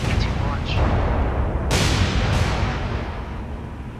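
Naval gunfire during a sea battle in the video game War on the Sea, a continuous rumbling bombardment with a few sharp, loud blasts standing out against a heavy low roar.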